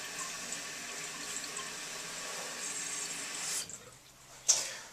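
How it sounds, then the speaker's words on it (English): A toilet partly flushed and refilling its tank gives a steady hiss of running water that drops away near the end, followed by a brief splash, all fairly faint and close. "I'm going to partially flush it so I can make this adjustment"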